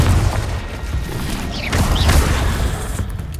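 A Confringo blasting spell explodes in the Hogwarts Legacy video game amid dense, continuous booming and crashing combat noise, loud and close, with brief whooshing spell effects rising through the din.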